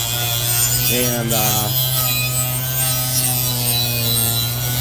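An orbital sander grinds rust and corrosion off old scraper tools, a steady close buzzing drone with a low hum, with someone speaking briefly over it.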